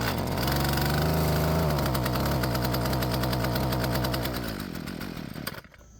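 A Husqvarna 128LD string trimmer engine, fighting carburettor trouble, runs with a buzzing two-stroke note that wavers, then loses power and sputters out near the end.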